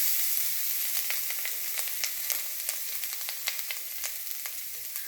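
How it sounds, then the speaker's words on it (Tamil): Grated coconut sautéing in a pan for pirandai (adamant creeper) chutney, with a steady crackling sizzle and scattered sharp pops throughout, fairly faint and with no talking. "தேவையான அளவு புளி, இதையும் ஒரு வதக்கிடுவோம்."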